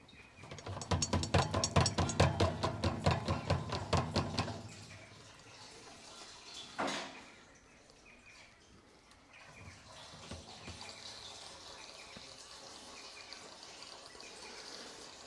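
Fuel glugs steadily from a 20 litre container into an old bulldozer, a loud gurgling pour that stops after a few seconds and is followed by a clunk and quieter handling noises outdoors.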